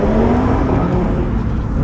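A powerful Audi RS3 engine roars steadily close by in Dubai, a dense, throaty revving drone with a slight whine on top.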